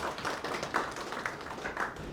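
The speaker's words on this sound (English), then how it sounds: "So you can clap for yourselves." Hackathon participants at Gusii Innovation Week clap for themselves, a steady patter of many hands filling the room for a couple of seconds with a few sharper accents.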